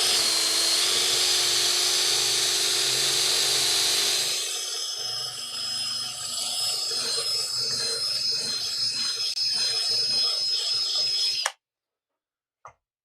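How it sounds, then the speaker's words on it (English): A handheld power tool whines steadily while reaming out the tuner holes on an acoustic guitar headstock. Its pitch drops and grinds roughly as it bites into the wood, then it cuts off abruptly, leaving a brief click. "Playing with power tools."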